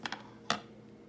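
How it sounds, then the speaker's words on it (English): Three quick, faint snips of scissors cutting through fabric, two close together and then one more after a brief pause, in a quiet room. "you're just going to go around with your scissors and cut it out"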